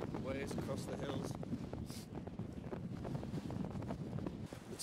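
Wind buffets a microphone on a winter mountain walk in the Lake District, a steady loud rumble with gusty swells, while someone talks underneath it.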